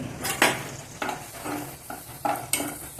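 Asafoetida fries in sesame oil in a pan, giving a soft sizzle under repeated scraping and stirring strokes of a metal spoon against the pan.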